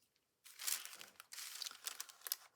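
Adhesive tape pulled from a roll and torn by hand at a craft table, a run of close, crackly ripping bursts after a brief silence, with several sharp snaps toward the end.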